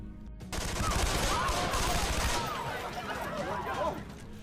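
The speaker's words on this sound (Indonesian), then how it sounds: "Saat tembakan terdengar, Sadeda melepaskan Murphy" A burst of rapid gunfire from a film scene erupts after a brief quiet, dense and loud, with echoing shots and shouting-like tones beneath.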